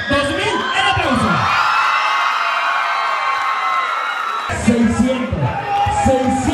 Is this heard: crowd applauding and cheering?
yes